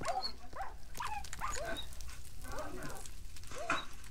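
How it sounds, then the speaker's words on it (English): Dogs in the Minecraft video game whimpering and yelping while being burned with lava, a run of short high cries repeating close up over steady game background noise. "Let the dogs burn. I'm putting lava on them."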